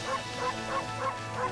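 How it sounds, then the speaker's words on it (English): A cartoon wolf in the video game Okami barks in a quick series of five bright, yipping woofs, evenly spaced and loud, alone over a steady game music hum. "you gotta be barking when you're right next to him for him to speak to you"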